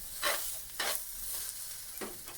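Onions frying in a pan, a soft steady sizzle broken by three quick scraping stirs, close but fairly quiet, with no talking.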